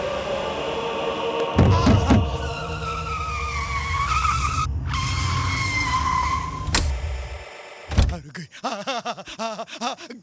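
A car skids with a long tire-screech and engine roar, then a sharp thud near the end followed by scattered rattling and shouting voices; loud and close, comedic street scene.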